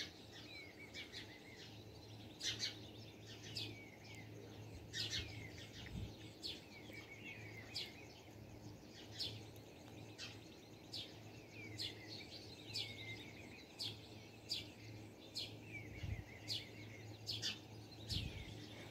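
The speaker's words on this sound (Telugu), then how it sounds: "ఈ పిచ్చుకల సౌండ్స్ వినండి, చాలా చాలా బాగున్నాయి" Sparrows chirping on a small balcony with potted plants in the early morning: repeated short, bright chirps from a few birds at moderate distance over a faint low hum, quiet and unhurried, no speech.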